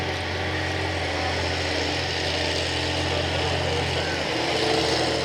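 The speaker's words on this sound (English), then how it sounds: "That's a Meteor engine in the back there." A Meteor engine, a derated Spitfire Merlin run without a silencer, drones steadily at a show, a dense continuous roar held at constant loudness throughout, with no clear talk above it.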